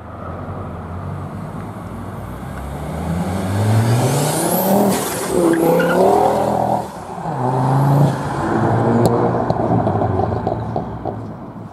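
A car pulls away from a repair garage after drive shaft work, its engine note rising and shifting through gears at moderate distance, loud and alone with no talk.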